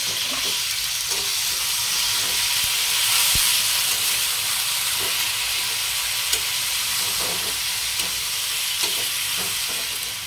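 Garlic frying in a pan over low gas, stirred now and then, gives a steady close hiss with faint scraping under it and no talk.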